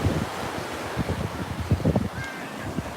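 Ocean surf washing far up Waikiki Beach, unusually high water, a steady broadband rush with wind noise and choppy surging bursts throughout.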